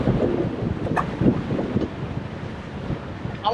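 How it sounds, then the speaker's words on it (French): Strong 22 to 24 knot wind buffets a microphone aboard a sailboat at sea, a continuous rough roar with gusty swells and faint splashing underneath. "22, 24 nœuds de vent."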